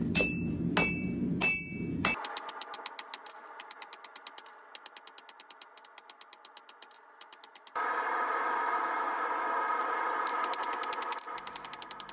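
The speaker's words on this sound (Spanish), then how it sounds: "Y ya cuando martillamos sentimos el sonido de una pieza sólida." A forged billet of Damascus steel made from motorcycle chain is struck with a hammer, first in a few slow heavy blows, then in fast rhythmic ringing strikes, with a loud mechanical power hammer pounding in rapid bursts.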